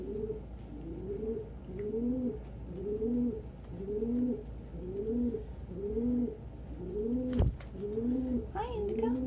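Pet pigeons or doves coo close by indoors in a steady, repeated rhythm of soft, throaty two-part calls. A brief knock and some light chirps come near the end.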